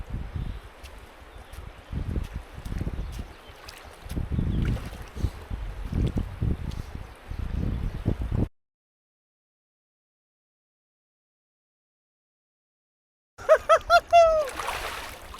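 Kaveri river water splashes near at hand as someone bathes near Hogenakkal Falls, a run of irregular splashes lasting several seconds, then a long silence before a short bright burst of sound.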